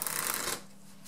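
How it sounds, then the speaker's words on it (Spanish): A deck of playing cards is overhand-shuffled close by, a brief bright riffle of flicking cards for about half a second that then drops to near silence. "Vamos a mezclar por ojeo"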